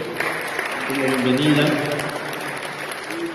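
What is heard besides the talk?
applause welcoming auxiliary bishop Monseñor Héctor Mario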